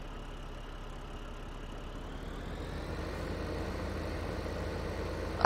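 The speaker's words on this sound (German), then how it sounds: "Ach, der Motor hier vorne arbeitet mit" A tractor engine runs in Landwirtschafts-Simulator 2015, a steady low idling rumble that swells slightly louder partway through and continues without talk.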